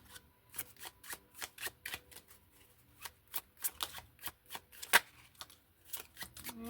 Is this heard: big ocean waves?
no